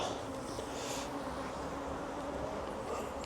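Honey bees buzz in a dense, steady drone close by at an open hive during a Demaree swarm-control split, as nurse bees are shaken out, a continuous hum of many insects with no talking.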